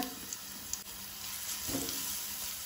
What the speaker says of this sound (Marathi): तेल तापले तशें तातूंत आमी घालुया लसूण